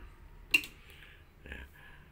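A single sharp mechanical click from a car's injection fuel pump relay, followed a second later by a softer second click, in an otherwise quiet setting; the pump does not start.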